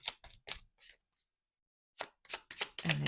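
Tarot cards are shuffled close up in quick riffling bursts, with a pause of about a second midway before the shuffling resumes.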